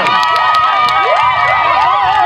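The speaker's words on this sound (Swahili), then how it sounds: "Jipigieni makofi mengi sana." A crowd cheers and applauds loudly at a CCM campaign rally in Njombe, with children's shouts and whistle-like cries rising over steady clapping throughout.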